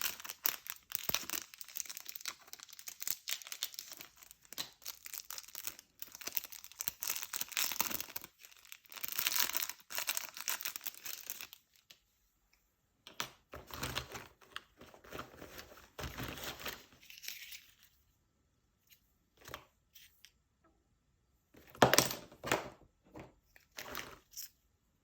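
Small plastic and metal clicks, crinkles and fiddling come from changing pen nibs with a nib changer while organizing art supplies, close and quiet, in irregular bursts separated by near-silent pauses.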